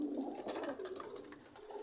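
Caged pigeons coo softly and continuously in low, rounded tones, close by, with no talk.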